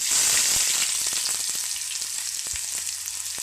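Chopped medium-size onion hits hot oil with crackling mustard seeds and cumin, giving a loud, steady sizzle that gradually settles into a softer fry with scattered pops, close to the pan.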